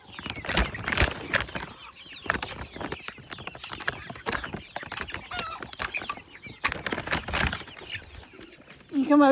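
Chickens on a farm where the animals are being fed, clucking in a busy, overlapping run of short calls close by, with a brief sharper squawk near the end.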